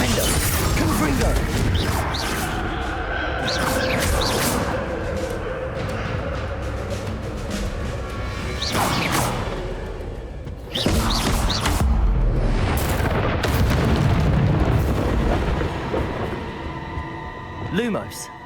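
Fiery Confringo blasting spells explode repeatedly during Hogwarts Legacy combat, loud crashing bursts over a dense mix of game noise, with voices calling out spells throughout.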